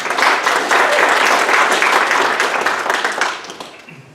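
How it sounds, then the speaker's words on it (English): Church congregation on a missionary Sunday applauds steadily to welcome a guest speaker, a dense, loud wash of clapping that holds for several seconds and then thins and fades near the end. "So I want to give a round of applause as we welcome Jordan here."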